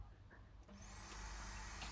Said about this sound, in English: It's better if you plug in your hoover.